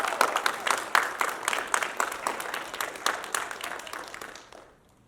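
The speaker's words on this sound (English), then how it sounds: "Let's give him a round of applause." A film festival audience at a special premiere applauds warmly, with a dense, rhythmic patter of many hands. The applause fades out near the end.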